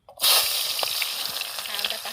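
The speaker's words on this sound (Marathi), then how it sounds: "कांदा टाकून घेते" Chopped onion drops into hot oil in a kadhai and immediately bursts into a loud, close sizzle that keeps crackling steadily after the initial rush.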